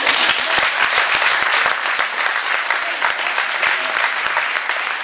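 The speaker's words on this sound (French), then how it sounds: "je voudrais qu'on vous applaudisse" A crowd at a Téléthon charity evening in Saint-André applauds, a thick continuous wash of many hands clapping, loud and sustained for about five seconds with a few sharper nearby claps standing out.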